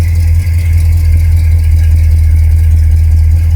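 A Ford Galaxie 500 engine idles steadily while warming up after being flooded, a loud, even low rumble that holds without pause from start to finish and has no voices over it.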